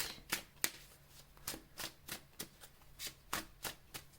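Tarot cards being shuffled by hand for a reading, a soft rhythmic run of crisp riffling slaps repeating about three times a second, close and alone.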